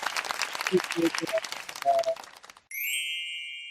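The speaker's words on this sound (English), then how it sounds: "a round of applause for the gifted membership" A short burst of clapping and cheering from a crowd under a talking voice, cut off by a bright electronic chime.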